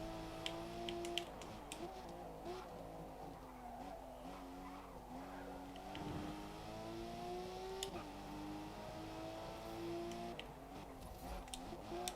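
A 2016 Porsche Cayman GT4 in Forza Motorsport revs hard with steady rising and falling engine tones and bursts of tire squeal, loud and continuous throughout.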